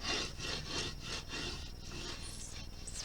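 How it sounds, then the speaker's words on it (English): Paper being burnished down onto a journal cover, a close rhythmic rubbing with about six strokes, quiet and alone. "burnish it down"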